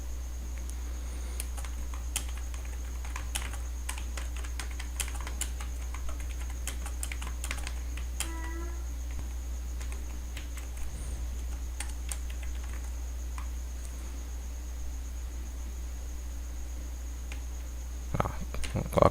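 Computer keyboard typing a paragraph in Word 2013, a steady run of light, close key clicks with brief pauses and a sharper keystroke near the end, heard alone over a constant low hum.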